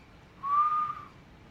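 A voice imitates the whistle of an incoming shell before an explosion, a single short steady whistled tone that rises slightly and fades, close and alone.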